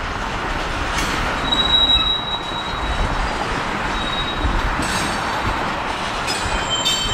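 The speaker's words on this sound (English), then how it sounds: "Oh my, it appears to be slowing down again." A long freight train rolls past steadily and slows, its wheels squealing in thin high tones against a continuous rumbling roar.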